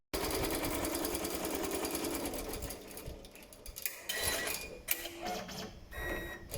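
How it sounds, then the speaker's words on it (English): A Rainbow embroidery machine stitches a test pattern while thread tension is being adjusted, giving a steady rapid mechanical chatter that fades partway through, followed by clicks and irregular machine noises. "we can embroider the testing pattern again"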